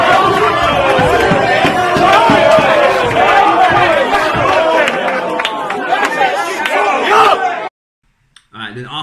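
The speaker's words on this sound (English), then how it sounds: "The crowd is rocking with him also after that first haymaker." A battle rap crowd roars and chatters loudly and continuously after a hard-hitting line, a dense wall of voices with shouts and scattered claps, cutting off abruptly near the end.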